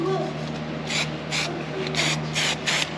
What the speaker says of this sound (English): so I'm just gonna squirt it with a little bit of trim black